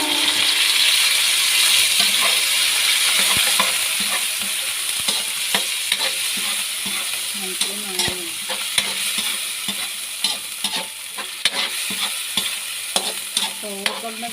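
Argentina corned beef sautéing in a pan with a constant sizzle and frequent scraping stirs, the frying loud at first then settling beneath sharp clinks of the utensil.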